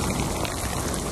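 Heavy rain pouring down in Dubai, a dense, steady hiss of drops hitting surfaces close by, loud and unbroken through the whole moment with no voices.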